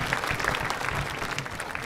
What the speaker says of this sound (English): let's give a round of applause for the EMS